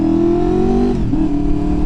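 A motorcycle engine accelerating on the road among traffic, a loud steady drone whose pitch climbs slightly and then dips, heard alone and close.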